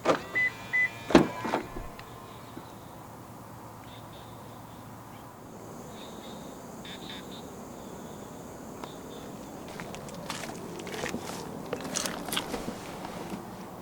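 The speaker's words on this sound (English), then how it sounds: "And to unlock the car, just press the ribbed area again." A 2022 Toyota Veloz 1.5 unlocks through its keyless front door handle, giving a quick burst of close clicks and clunks at the start, then quiet outdoor background with faint scattered ticks and rustles.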